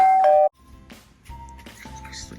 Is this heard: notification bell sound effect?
yes